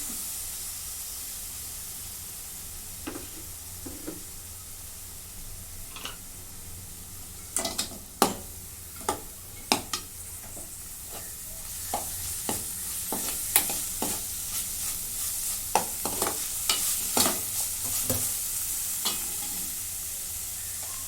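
A tomato is added to finely roasted masala and fried while being stirred for a drumstick curry. It gives a soft, steady sizzle with scattered sharp spoon scrapes and clinks against the pan that come more often as the stirring goes on.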